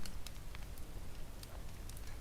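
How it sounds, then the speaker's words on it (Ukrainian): Wooden blocks burn in a small, gentle fire, giving faint scattered crackles and pops over a soft low hiss, quiet and close. "Вогонь приємний, ласкавий, не надто великий, але й не малий."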